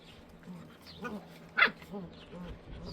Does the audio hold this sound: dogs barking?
yes